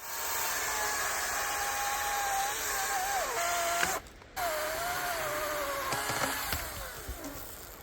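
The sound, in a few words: battery-powered chainsaw cutting wood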